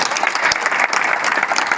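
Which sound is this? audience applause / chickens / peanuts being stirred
audience applause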